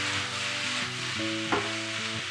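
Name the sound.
pork liver frying briefly in a pan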